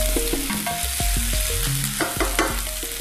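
Chopped onions frying in a pan for a vegan tofu breakfast wrap, a steady close sizzle with scraping stirs and clinks running throughout, no voices.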